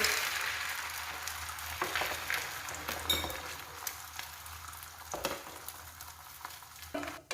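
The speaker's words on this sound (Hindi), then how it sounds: "ऑयल गर्म हो चुका है, इसमें हम अंडा डालकर इसको पका लेंगे।" Egg frying in hot oil for an egg shami burger, a steady close sizzle with a few clinks of a utensil against the pan, no talking.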